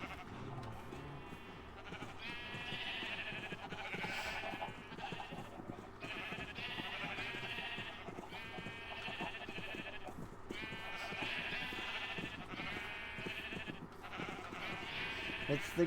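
Flocks of sheep bleat repeatedly in the video game Township Tales, many overlapping calls rising and falling over a steady background while someone talks over them.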